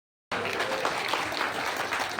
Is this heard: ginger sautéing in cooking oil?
no